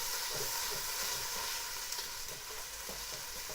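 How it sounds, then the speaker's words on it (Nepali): Onion fries in a pan for a masala chicken dish, giving a faint, even sizzle with soft stirring scrapes. "onion लाई राम्रोसँग तपाईले पहिला यसलाई फ्राई गर्नुपर्छ"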